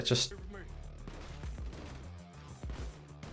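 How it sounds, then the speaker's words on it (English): Gunshots from the GTA 6 game trailer, a few sharp cracks and booms heard over music, with a voice talking in the background. "See the way he flinches to the gunshots."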